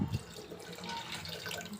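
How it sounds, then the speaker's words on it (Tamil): Water pouring into a pot for mutton bone soup, a soft steady splashing and trickle, faint and close, with no talking. "இப்போ நம்மளுக்கு எந்த அளவு தண்ணி வேணுமோ சூப்புக்கு அந்த அளவு தண்ணி சேர்த்துக்கலாம்"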